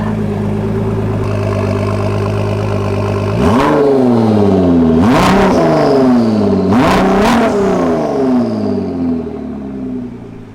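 A Ford GT's engine idles, then is blipped into three sharp revs with rising and falling pitch, the last two close together. Loud and close, with no talk over it.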